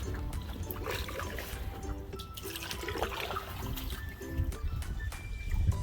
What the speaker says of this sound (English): I'm going to try to awkwardly paddle one-handed